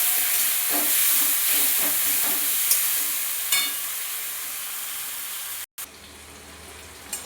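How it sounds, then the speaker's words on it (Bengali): Cauliflower, potato and onion fry in oil from catla fish, giving a loud steady hiss with a few soft stirring clicks before the sound cuts out briefly near the end. "আলু পেঁয়াজের সাথে আমি মাছের ফুলকপিগুলো দিয়ে দিলাম। এটা ভালো করে ভেজে থেকে আমি ভালো করে একটু কষিয়ে নেবো"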